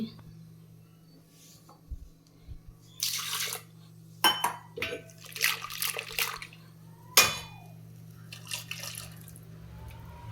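Water poured into a cooking pot in a home kitchen, splashing in short bursts over several seconds alongside metal clinks of pots and utensils and a steady low hum, with a voice speaking now and then.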